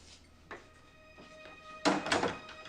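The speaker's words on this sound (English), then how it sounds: "Come in and close the door." Door closing indoors: a soft knock or handle sound first, then a louder thunking close with a short rattle near the end, over a faint steady background hum.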